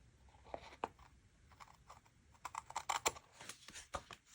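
Scissors cut a planner page in several sharp snipping and crunching cuts in irregular bursts, close by and fairly quiet, with no talking.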